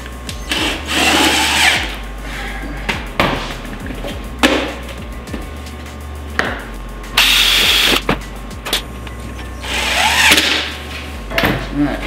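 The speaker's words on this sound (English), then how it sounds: "So I drill a pilot hole." A power drill with a dull bit bores a pilot hole, then a magnetized bit drives a screw into metal dust collection ductwork; loud, close bursts of whirring start and stop with clicks and handling noise between them.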